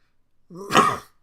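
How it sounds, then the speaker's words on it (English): A single short, raspy cough, close and fairly loud, in an otherwise quiet room. "Got a little bit of a cough today."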